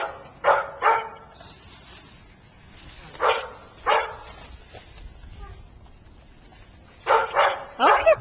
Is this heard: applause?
no